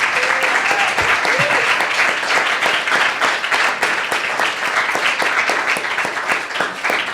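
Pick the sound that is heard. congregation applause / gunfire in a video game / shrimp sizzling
congregation applause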